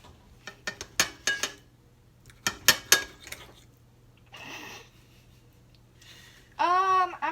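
A knife and fork cut a crepe with apple walnut topping and cream cheese on a plate. Several sharp, close clinks and scrapes come in quick clusters, with a short tonal voice-like sound at the end.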